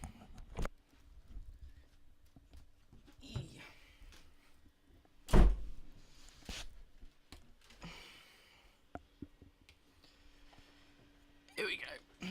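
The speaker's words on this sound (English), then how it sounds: "Let me shut my door." Several thuds and knocks as a door is shut indoors, one sharp loud bang near the middle among scattered softer bumps and rustles, with faint breathing sounds in between.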